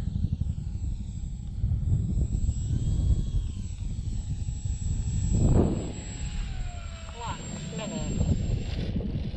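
A SIG Four Star 20ep electric RC model airplane flies overhead on its second flight, its motor a steady whine that rises and falls as it passes, with wind rumble and someone talking over it.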